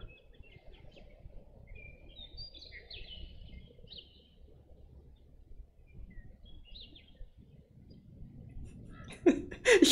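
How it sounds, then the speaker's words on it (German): Faint, scattered bird chirps twitter in the distance over a low background rumble, ending in a few louder bursts of noise. "Ja, ich habe Vogelgezwitscher."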